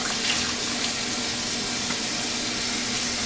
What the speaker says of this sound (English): I'm just gonna splash some warm or tepid water on my face.